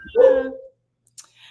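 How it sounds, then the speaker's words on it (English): A dog barks once in a backyard, a single loud, close bark with a short whine-like tail, followed by quiet and a couple of faint clicks. "That's my dog."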